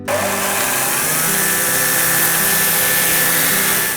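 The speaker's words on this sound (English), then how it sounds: "so now what we'll do is we'll go out and sand it down." A power sanding machine works a handcrafted knife, giving a steady loud whine with a rising pitch at the start and continuous grinding noise throughout.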